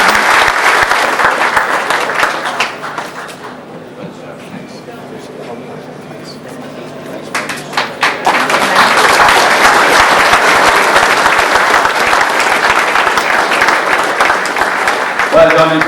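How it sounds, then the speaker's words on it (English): Hall audience at a GAA dinner dance in Donegal claps loudly, dips to quieter scattered clapping midway, then surges back into full, sustained applause. "Mickey Mcluhan, would you come forward and accept the applause of his audience?"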